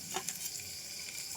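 Green chilies fry in hot oil in a pan, a faint, steady sizzle with a few brief crackles and pops near the start.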